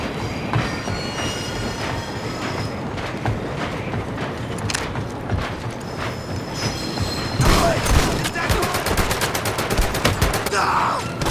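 A train rolling along in Medal of Honor VR, a continuous rumble with clattering wheels and metallic squeals, mixed with bursts of gunfire and a voice, growing busier toward the end.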